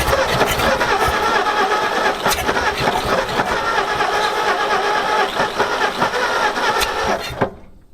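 The engine of an abandoned panel truck, unused for 40 years, cranks and catches, running rough and loud with uneven sputtering for several seconds before cutting off abruptly.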